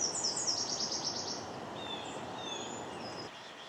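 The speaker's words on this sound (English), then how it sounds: "The Nashville warbler is not as colorful as its cousins and often hidden in flowering trees, but it has a very distinctive song." A Nashville warbler sings, with a bright chipping burst near the start and scattered higher notes after it, heard at a modest distance over steady outdoor noise and a faint insect hum.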